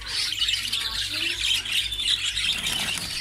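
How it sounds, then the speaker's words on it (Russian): Many caged birds at a bird market in Antalya squawking and trilling together in a dense, continuous, fairly close chorus with no pauses. "Боже, какие трели. Какое разноголосье."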